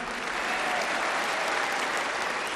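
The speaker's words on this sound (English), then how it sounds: "Come on, she deserves some applause." An audience at the 1976 Miss World beauty pageant applauds a contestant, a dense, even wash of clapping from a large crowd heard steadily throughout with no speech over it.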